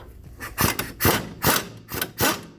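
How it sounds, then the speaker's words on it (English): An impact wrench drives a bolt on a Ford Focus rear wheel hub in five short, loud bursts, close up and spaced roughly half a second apart, with no voices. "now I'm going to move the impact over to this bottom bolt here that I have in."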